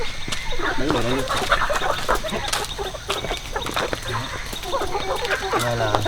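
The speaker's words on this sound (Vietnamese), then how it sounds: "Đây là khá là nhiều gà này." Many chickens cluck and squawk steadily at a farmyard in the mountains, with people talking nearby over the flock.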